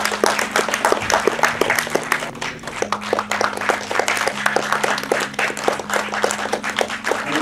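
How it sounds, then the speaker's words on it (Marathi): Steady, dense applause from an audience at the Goa Marathi Film Festival, many hands clapping close and continuously with no pause throughout. "तिला टाळ्या."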